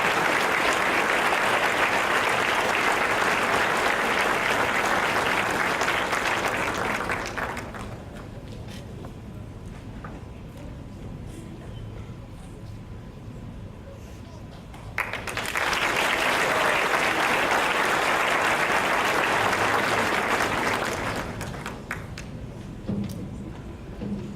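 A crowd at a high school graduation applauds loudly for several seconds, fades to murmuring room noise, then bursts into another long round of clapping.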